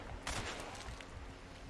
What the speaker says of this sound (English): That's the hand cannon, man.